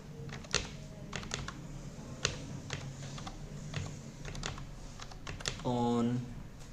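Typing on a computer keyboard, a run of irregular clicks and clacks at close range, with a brief tonal sound near the end.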